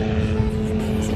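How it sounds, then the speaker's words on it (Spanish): A helicopter flying overhead, heard as a loud continuous low rotor and engine drone that stays steady throughout the short moment. "¡Ese es un helicóptero!"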